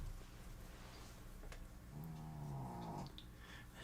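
A cat's meow, a single drawn-out vocal call with a rising then falling tone, heard fairly close over steady low background hum; nobody talks.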